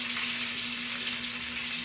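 Onions sizzle in a pan with a steady, hissing fry, close and even throughout, with a low hum underneath.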